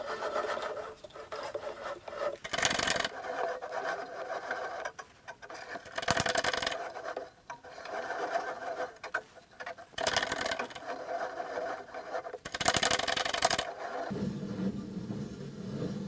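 Homemade metal roller bending a steel strip into a hoop of about 250 mm diameter, giving a rasping, grinding mechanical sound with four louder bursts of broadband scraping against steadier rolling noise, no talk.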